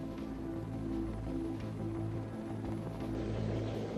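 A Marine One presidential helicopter drones with a steady, low rotor and engine hum, a continuous even roar with a pulsing low rumble, heard alone at moderate level.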